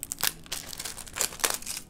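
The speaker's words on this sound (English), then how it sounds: "So this is wrapped in a plastic on top of the box, Not too hard to open." Plastic wrapping being peeled and torn off the box of a Rii mini wireless keyboard, giving close, soft crinkling and crackling in short irregular bursts with no talking.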